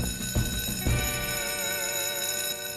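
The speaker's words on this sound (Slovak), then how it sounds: "Prečo musí byť poplach vždy vtedy," A cartoon fire station alarm rings loud and sustained, a steady electronic bell tone with two brief thuds near the start, then continuing alone.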